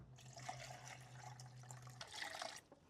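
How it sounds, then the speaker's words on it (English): Fresh water poured into a Ford Escort's cooling system, a soft splashing, gurgling fill with a low steady tone that stops abruptly, followed by a brief trickle, quiet and close. "All right, more fresh water in."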